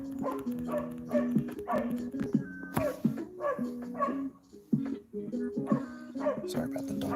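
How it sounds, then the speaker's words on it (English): Several dogs bark and yip in short, rhythmic bursts, mixed with high whimpering whines, fairly close and loud, with a pause midway before the barking resumes, indoors with no talk over it. "Sorry about the dogs, guys."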